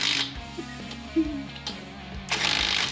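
A wrench works on car wheel lug nuts, giving a few quick ratcheting click runs and metallic knocks at close range over a short stretch.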